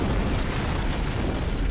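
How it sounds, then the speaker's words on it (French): Antimatter charge exploding aboard a ship in the Halo video game, heard as a dense, steady, roaring rumble that fills the whole stretch without a break. "Ça doit être un de leurs groupes d'abordage, une charge antimatière, j'imagine"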